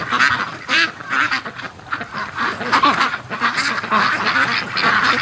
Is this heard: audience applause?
no